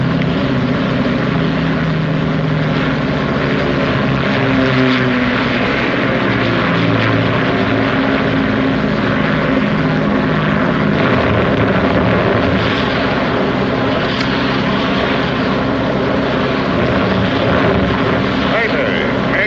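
Steady, loud drone of a propeller aircraft engine in flight fills the whole stretch, a continuous throbbing roar with voices talking faintly beneath it.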